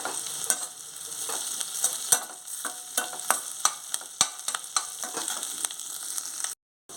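Chopped onion and curry leaves frying in hot oil, a steady close sizzle broken by frequent sharp clicks and scrapes of a spatula stirring the pan, cutting to silence at the very end.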